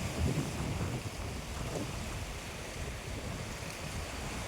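Floodwater rushes and roars continuously past a broken bridge, with broad, windy noise, a strong steady flow heard up close without any talking.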